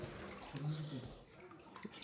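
Floodwater sloshes and splashes inside a flooded house, a close, moderately loud burst of wet movement with a brief voice mixed in.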